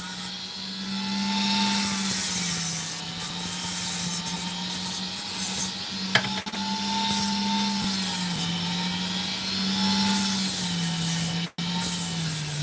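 An opal being cut on a lapidary machine, a loud steady whine with a low hum that holds for the whole stretch, dipping briefly near the end, with no talk.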